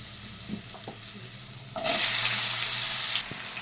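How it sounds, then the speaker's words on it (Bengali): Potatoes for posto are dropped into hot oil that has just fried eggplant and pointed gourd. A quiet bubbling suddenly bursts into a loud, dense sizzle for over a second, then falls back abruptly. "আমি দিয়ে দিচ্ছি এই তেলের মধ্যেই আলুটাকে পোস্তর জন্য।"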